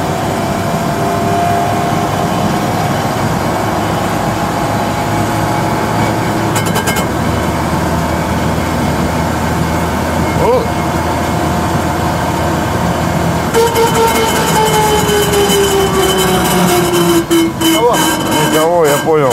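Car gearbox with sawdust added to it, running loud and steady for the whole stretch as the throttle is released, with rising and falling whine tones over constant road and engine noise.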